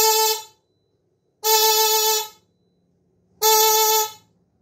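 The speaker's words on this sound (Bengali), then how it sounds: "এবার আপনাদের হর্ন, আমি হর্ন বাজিয়ে দেখাচ্ছি" A loader's electric horn, sounded on a wiring harness bench setup, gives three loud, steady blasts of about a second each, spaced evenly apart with silence between.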